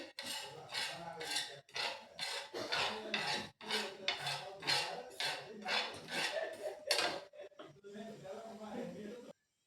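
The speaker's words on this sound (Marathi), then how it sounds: "आता आपण खसखस भाजून घेऊ खसखस पण थोडीशी भाजून घ्यायची" Poppy seeds dry-roast in a pan, with a spatula scraping and stirring in quick, rhythmic rasping strokes, one after another with brief pauses, close and fairly quiet, then the strokes stop and the pan falls silent.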